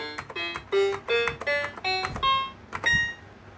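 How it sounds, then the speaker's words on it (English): An Apple IIGS computer sounds a series of short electronic beeps, each at a different pitch, stepping up and down in a quick irregular rhythm, close and clear with no talking. "We can change the volume of that beep. And the pitch, even."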